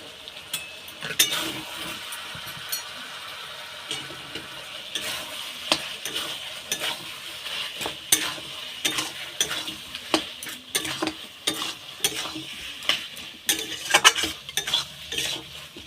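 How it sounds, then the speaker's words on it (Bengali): Coriander, cumin, turmeric and chilli powders stir-fried with tomato, ginger and garlic for a meat curry, a quiet sizzle under frequent scraping and clinking spoon strokes against the pan, with no voices. "ধনে গুঁড়ো, জিরে গুঁড়ো, হলুদ গুঁড়ো, লঙ্কা গুঁড়ো দিয়ে ভালো করে আবার কষিয়ে নেব।"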